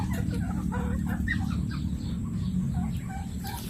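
Chickens cluck and chatter in short, irregular bursts over a low rumbling background, with several birds calling at once.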